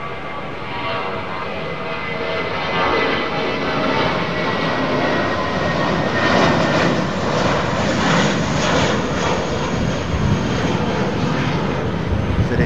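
A fixed-wing aircraft roars down the runway at London Heathrow Airport, a loud steady engine rumble and whine that swells slightly and holds for the whole stretch.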